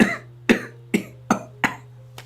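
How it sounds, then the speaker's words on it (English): Five or six separate coughs from one person, spaced about half a second apart and fading slightly toward the end, with a steady low hum underneath. "Because you coughed? Just one cough?"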